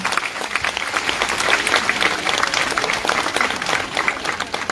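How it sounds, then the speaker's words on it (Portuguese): Audience applause, a dense, steady wash of many hands clapping at close range, sustained evenly throughout with no voices over it. "Salva de palmas."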